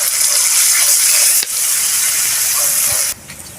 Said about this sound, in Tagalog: So, maglalagay po ako ng tubig.